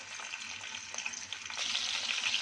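Two green chillies sizzle in hot oil in a pan, a steady close crackling fry that grows brighter and louder toward the end.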